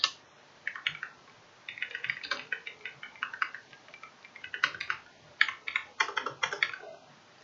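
Keys clatter on a computer keyboard as someone types entries into an online application form, with quick irregular bursts of clicks and brief pauses between words, close and clear with no voices.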